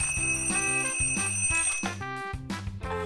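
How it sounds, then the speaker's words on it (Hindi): An alarm clock rings in a bedroom, a loud bright metallic bell ringing continuously and close with steady pulsing strikes for the whole stretch, no voices. "ये आवाज कहाँ से आ रही है? अल्लाह, मेरे कान! ये लूसी के कमरे की अलार्म क्लॉक है।"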